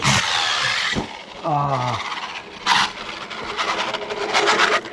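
A Redcat Kaiju RC monster truck with a gear fault, its drivetrain giving off harsh grinding and squealing bursts in short spurts, close and fairly loud, with a rising whine near the middle.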